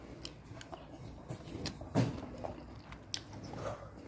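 Crunchy vegetables from a Lao vegetable soup being bitten and chewed, with a sharp close crunch near the middle amid quiet mouth sounds and faint background noise.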